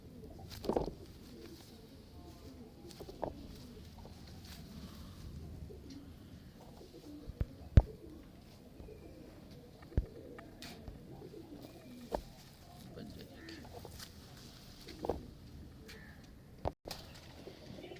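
Pigeons of the Mistri Deen loft coo softly now and then amid a low rustling background, with a few sharper flaps or knocks spaced through the scene.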